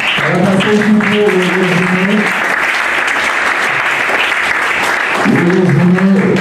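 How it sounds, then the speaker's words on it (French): An audience at an NGO launch event bursts into loud, sustained applause as a speaker takes the floor, dense clapping filling the whole span, with a voice speaking over it at the start and end. "on va lui accorder la parole sous des applaudissements"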